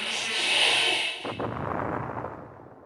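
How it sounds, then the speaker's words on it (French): An explosion sound effect in a submarine engine room: a rising rush swells, then a sudden heavy blast breaks off into a low, fading rumble. "Une explosion se produit dans la salle des machines."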